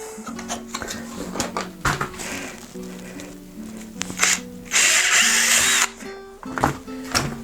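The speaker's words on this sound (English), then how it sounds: "Okay, so I drilled holes here, here, here, here, here, here" A power drill bores holes through a snowshoe binding, with bursts of whirring and grinding among clattering handling noises, close and fairly loud, no talking.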